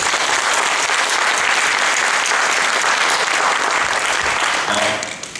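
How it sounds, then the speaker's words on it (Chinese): An audience at a lecture by finance and economics experts applauds warmly. The dense, sustained clapping fills the room for about five seconds before thinning out at the end. "用热烈的掌声，谢谢他们。"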